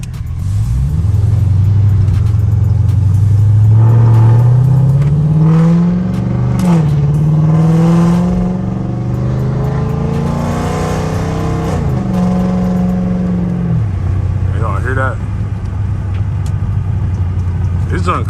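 A Dodge Charger SRT is driven on snowy roads after a blizzard, its loud V8 engine climbing through several revving shifts before settling to a low burble, heard from inside the car.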